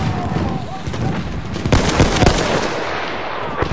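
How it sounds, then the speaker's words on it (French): In a Battlefield 1 battle on the map L'ombre du géant, rapid gunfire rattles amid booming explosions, a dense, loud chaotic barrage that swells in the middle. A voice talks faintly underneath. "il y a tout qui explose, c'est la folie furieuse sur cette map"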